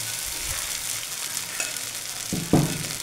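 Potatoes and sago sauté in hot oil, giving a steady, close sizzling hiss with a few soft stirring scrapes and knocks of the spoon in the pan.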